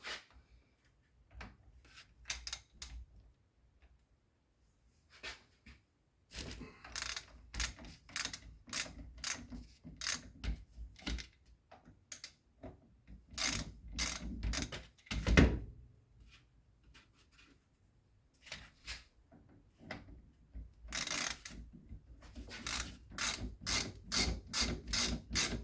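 A 19 mm wrench loosens bolts while a Sachs ZF closed-cartridge motorcycle fork is taken apart, giving quiet metallic clicks, rubs and ratchet-like scrapes in irregular clusters, close and soft, with no talking.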